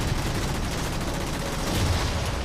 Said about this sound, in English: Getting some help from the rocket launchers here. Infinity's guns.